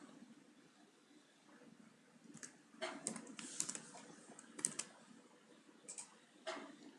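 Computer keyboard typing HTML and CSS code, a quiet run of soft key clicks in short bursts and single taps, fairly close with a low background hum and no talking.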